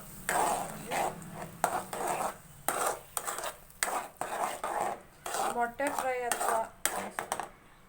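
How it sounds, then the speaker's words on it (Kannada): Eggs being mixed with fried onions in a pan for egg bhurji, with repeated scraping and clinking of a metal spatula against the pan in short bursts, close and moderately loud. "ಇವಾಗ ಎಲ್ಲವನ್ನು ಚೆನ್ನಾಗಿ ಮಿಕ್ಸ್ ಮಾಡ್ಕೋತಾ ಇದ್ದೀನಿ ಈರುಳ್ಳಿ ಫ್ರೈ ಮಾಡಿರೋದ್ರ ಜೊತೆಗೆ"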